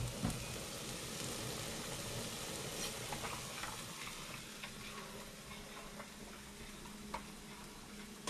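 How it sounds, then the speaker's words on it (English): Onions fry in a pan while being stirred, a quiet continuous sizzle with faint scraping and occasional small ticks, no talking. "Now, the onions are going. I will give that a bit of a stir."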